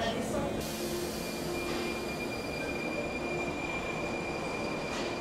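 A Prague metro train rumbles steadily with a high, sustained wheel squeal running throughout, loud and close, like riding inside the carriage.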